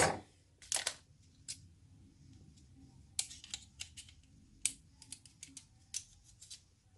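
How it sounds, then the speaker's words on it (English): Scissors snip and rustle through a bag, with several sharp cuts and crinkles spread over a quiet background. "Get my scissors."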